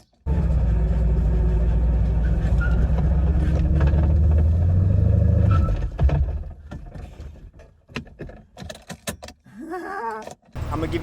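A stick-shift Mercedes SL500 engine runs loud and steady at low rumble for several seconds, then cuts to irregular bursts and revs amid handling noises.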